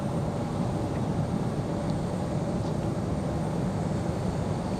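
A steady, even roar from an American Airlines Embraer E190 jet at Raleigh-Durham airport, a constant wash of engine noise heard from a distance with no speech over it.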